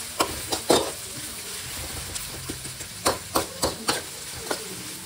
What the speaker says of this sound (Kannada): ಈರುಳ್ಳಿ ಆಗ ಜಾಸ್ತಿ ಬೇಗ ಬೇಯುತ್ತೆ, ಅಂದರೆ ಫ್ರೈ ಆಗುತ್ತೆ.